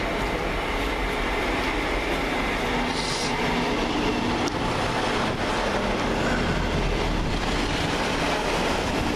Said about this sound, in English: Next up, the 1441 to Norwich from Liverpool Lime Street, for East Midlands.